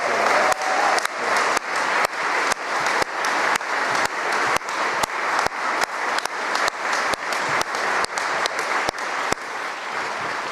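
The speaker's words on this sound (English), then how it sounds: "can we give Maeve and Judith a huge round of applause" A large audience at the Goldsmiths' Craft & Design Council Awards applauds loudly and steadily, with dense, continuous clapping close to the listener that goes on throughout without a break.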